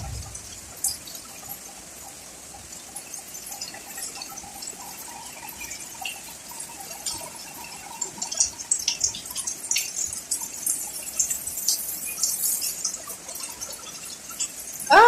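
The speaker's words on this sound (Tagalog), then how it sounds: "Binuhos na ang ulan. Isang buhos." Rain pours during the first heavy downpour of the year in Bahrain, with a steady wash of dripping and draining water running throughout, growing denser and louder in the second half.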